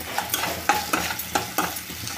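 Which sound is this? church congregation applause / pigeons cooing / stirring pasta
stirring pasta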